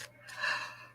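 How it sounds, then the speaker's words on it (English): A single drawn-out yawn with a breathy intake swelling to a peak and trailing off, close and alone with no talk. "big yawn"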